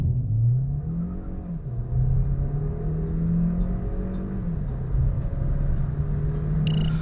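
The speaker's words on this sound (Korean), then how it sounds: "잠시 발진 가속 성능을 볼까요?" A 2022 Kia Sportage Hybrid pulls away hard from a standstill, its engine note climbing and falling through gear changes as a steady rumble and whir sustain throughout, loud and close with no talking.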